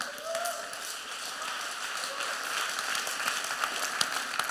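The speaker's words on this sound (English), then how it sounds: "Round of applause for him." Audience applause at a sales talk at the PODIM 2018 conference in Maribor, a broad, even patter of many hands in a large hall, moderately loud and sustained with a few sharper claps near the end.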